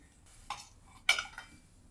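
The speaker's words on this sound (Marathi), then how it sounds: "मिक्सरच्या भांड्यामध्ये मसाला काढून घेते मी" Two short metallic clinks and scrapes of a spoon against a steel mixer jar as spice mix is moved in, close by, about half a second apart, with quiet between them.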